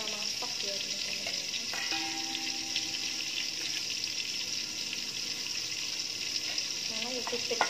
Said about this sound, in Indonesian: Goreng tomat dulu